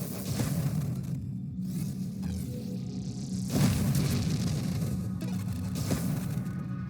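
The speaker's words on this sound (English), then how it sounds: "I should not be right in the middle of that explosion." Explosions in the space shooter game Nova Drift: booming, whooshing synthetic blasts rise and fall with electronic rumble, several distinct bursts over a few seconds, loud and close with no talk.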